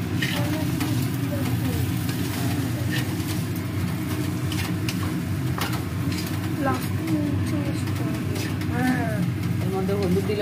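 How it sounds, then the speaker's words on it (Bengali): Potato pieces sizzle and fry in a pan while being stirred, a steady crackling hiss with occasional scraping, and birds chirp faintly in the background. "এবারের মধ্যে আমি আলুটাও দিয়ে দিলাম। দিয়ে একটু নাড়িয়ে চেড়ে নেব।"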